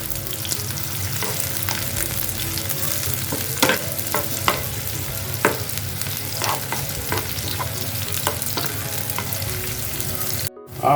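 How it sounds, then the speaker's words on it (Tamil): Sliced onion frying in oil in a pan while stirred for a plantain fry side dish, a continuous sizzle with irregular spoon clinks and scrapes, close and steady, ending in a brief cut. "வெங்காயம் ஆயிலில் ஃப்ரை ஆகிடும்"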